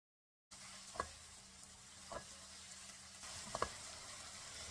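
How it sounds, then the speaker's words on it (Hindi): Chopped onions, two medium ones, sautéing in half a cup of oil in a pan, a steady soft sizzle with a few faint stirring knocks, fairly quiet and heard alone. "उसमें 2 मीडियम साइज के चॉप्ड किए हुए प्याज हम ऐड करेंगे, और अब हम इसको सौते करेंगे"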